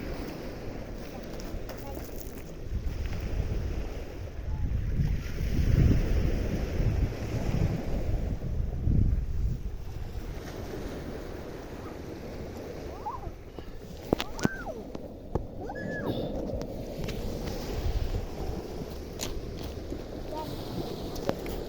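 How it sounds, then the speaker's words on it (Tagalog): A steady breeze blows across the microphone, rumbling low and continuous, with waves washing in the background. "Ang sarap ng simoy ng hangin"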